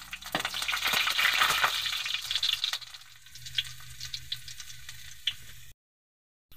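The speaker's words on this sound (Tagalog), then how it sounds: "Mainit na yung ating mantika sa kwali. Magigisa na tayo ng bawang," Garlic and ginger sautéing in hot oil in a wok, a loud bright sizzle with stirring scrapes that dies down to softer crackling and occasional knocks before cutting out.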